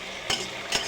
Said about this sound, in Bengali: এইবার একটু ভালো করে সাবলে নেব।